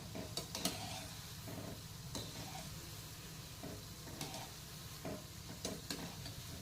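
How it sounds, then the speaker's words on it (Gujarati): Gota fritters deep-frying in hot oil, a steady soft sizzle and bubbling with scattered sharp clicks and scrapes of a utensil against the pan, close and fairly quiet, no talking. "આપણા ગોટા તળાઈ ગયેલા છે"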